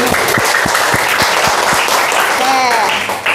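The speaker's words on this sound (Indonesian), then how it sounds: "tepuk tangan untuk kalian semua" A classroom group of student teachers claps together after a poster activity, with a few distinct rhythmic claps merging into a continuous patter, as a voice speaks over the end.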